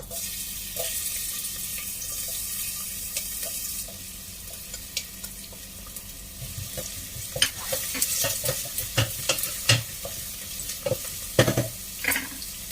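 Onions frying in hot oil in a saucepan, a steady sizzle that later gives way to irregular clinks and scrapes of stirring, close and without talk.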